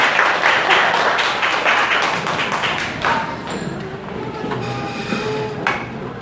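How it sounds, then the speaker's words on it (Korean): Applause from an audience at a flower-basket presentation ceremony, loud rhythmic clapping that gradually softens and tapers, leaving a quieter room tone with faint movement toward the end. "다시 한번 큰 박수 부탁드리겠습니다."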